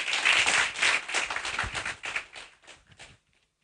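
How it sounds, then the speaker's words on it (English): Conference audience clapping at a Tooro peoples' gathering, a burst of hand claps that thins out and stops abruptly near the end, leaving silence. "Now I ask another hand clap"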